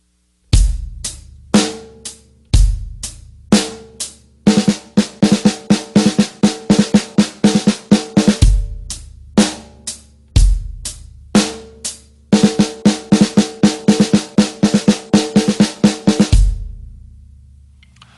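Drum fill of straight sixteenth notes with doubled thirty-second strokes worked in, repeated several times as rapid bursts of sharp hits separated by brief gaps, close and loud with no voices.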